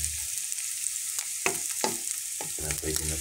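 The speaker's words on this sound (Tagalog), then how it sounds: "prito-prito yung ating bawang na sa sibuyas" Garlic and onion frying in a pan, a steady sizzle broken by several scraping stirs of a utensil, close and fairly loud with no talk.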